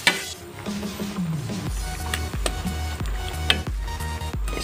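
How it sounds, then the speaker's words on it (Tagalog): A pot of ginataang malunggay, kalabasita and sitaw with dilis in coconut milk is stirred, giving close wet squishing and soft scraping with a few light knocks against the pot and a faint simmer underneath. "Pwede naman po siyang haluin para pumailalim ang dilis."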